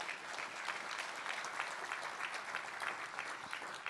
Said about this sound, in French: merci Didier Le Ménestrel, merci de l'applaudir.